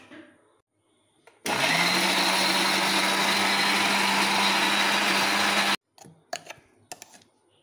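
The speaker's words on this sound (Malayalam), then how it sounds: "മാങ്ങപ്പഴവും പഞ്ചസാരയും മിക്സിയിൽ ആദ്യം അടിച്ചെടുക്കുന്നു." A mixer grinder blends mango and sugar, whirring loudly and steadily for about four seconds before stopping abruptly, with a few faint clinks before and after.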